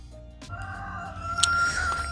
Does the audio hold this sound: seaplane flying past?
no